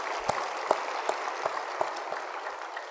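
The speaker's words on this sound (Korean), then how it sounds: "하나님께 영광의 박수를 드리겠습니다." A church congregation claps together during a Sunday service, a steady wash of many hands with a few sharper claps standing out, sustained and moderately loud, no talk.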